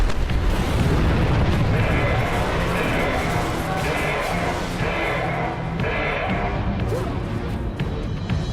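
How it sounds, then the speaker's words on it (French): A bomb blast in the video game Destiny, a loud rumbling boom that swells at the start and rolls on into sustained crackling debris and low roar, with game sounds layered over it. "D'un seul coup, il nous a lancé sa bombe."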